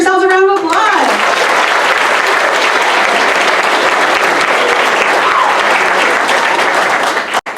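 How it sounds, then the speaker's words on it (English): Families at a sixth-grade moving-up ceremony in a school gym break into loud, sustained applause that fills the room and fades out at the end, after a brief voice at the very start. "Give yourselves a round of applause."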